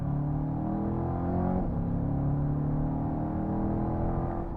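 Corvette V8 engine pulling hard through long gears, a steady loud in-cabin drone with rising harmonic tones, a brief dip near the middle as a shift happens, then continuing to climb.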